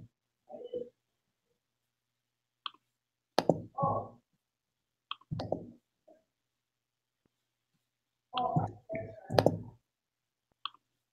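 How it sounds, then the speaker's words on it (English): Computer mouse clicks in a quiet room, arriving in irregular bursts of several quick clicks separated by long silent gaps, close and fairly crisp. "I keep clicking in the wrong spot."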